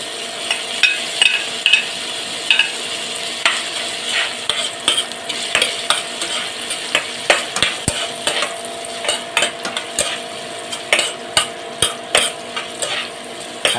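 White onion and garlic frying in a pan, a steady sizzle under repeated sharp scrapes and clinks of a utensil stirring against the metal, with no talking.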